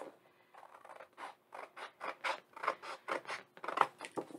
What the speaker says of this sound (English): we're going to go ahead and trim off these edges